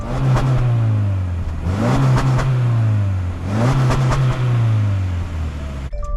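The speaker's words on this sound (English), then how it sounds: "it fires right up with the push-button start" A 2024 Subaru Crosstrek Wilderness engine runs close up and loud after a push-button start, rising twice in pitch in smooth revving swells before settling back to a steady idle hum.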